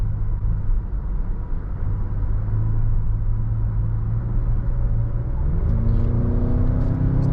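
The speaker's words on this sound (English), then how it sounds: "Transmission downshifts right away, rockets right up to speed." A 2020 Mazda CX-9 Signature SUV's engine rumbles at speed, then the revs climb sharply as it accelerates hard after a quick transmission downshift.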